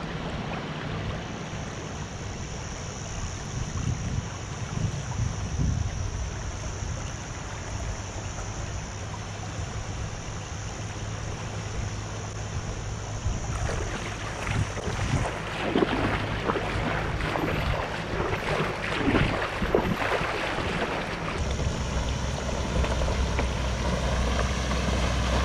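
A modified Toyota Land Cruiser 79 Series engine drones steadily while crossing a tidal creek, water rushing and splashing around it, growing rougher and louder midway through, with no talking.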